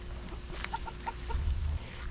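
Chickens clucking near a backyard chicken coop during a garden tour, several short nearby clucks in an uneven rhythm over steady outdoor background, with no talking.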